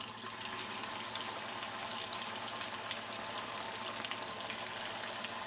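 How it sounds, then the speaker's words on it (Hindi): Chana dal frying in hot oil, a dense steady sizzle and crackle that holds evenly throughout at moderate level, with no talking. "ऑयल को मैंने गरम कर लिया है अच्छा तेज़, उसमें से ये हाफ दाल डाल दूंगी मैं इसके अंदर"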